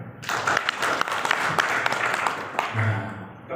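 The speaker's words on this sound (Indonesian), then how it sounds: "Itu luar biasa tepuk tangan." A crowd at a PMI gathering applauds in a dense burst, with a few sharp, distinct claps standing out before it thins, and a low voice briefly audible near the end.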